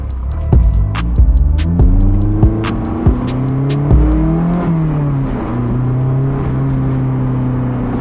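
A Honda S2000 engine revs and pulls through the gears on a night drive, rising and falling tones loud and close with a few sharp clicks early on.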